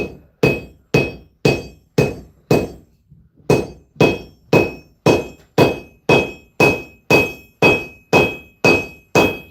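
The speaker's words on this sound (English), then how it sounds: "get an anvil, because copper, you got to hit it hard, man" Copper is struck hard with a hammer on an anvil, producing loud, close, ringing metallic blows in a steady, even rhythm, about seventeen in all, with one brief pause early on.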